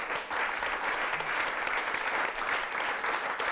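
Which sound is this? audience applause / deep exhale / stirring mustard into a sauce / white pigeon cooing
audience applause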